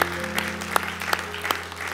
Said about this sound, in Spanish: Demos un aplauso de alabanza al Señor